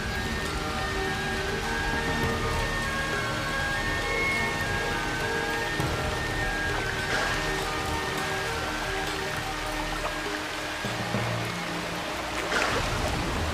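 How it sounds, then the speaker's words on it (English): Heavy monsoon rain pours over Kaziranga, a loud unbroken wash of falling water with faint tonal sounds beneath it and no speech. "It has been raining heavily in Kaziranga for the last 3 months."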